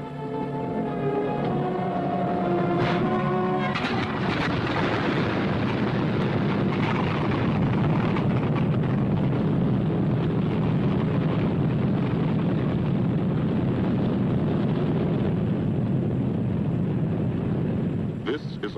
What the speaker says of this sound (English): the roaring engine sound of the bombers pounding through the quiet English countryside